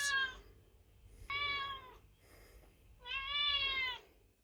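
A pet cat named Maisie meows loudly three times in separate, drawn-out cries with short quiet pauses between, close to the listener indoors.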